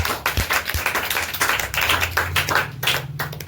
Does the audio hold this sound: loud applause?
yes